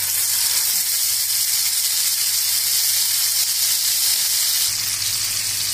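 Tandoori chicken frying in oil in a frying pan makes a loud, continuous hissing sizzle up close, steady from start to finish with no talking.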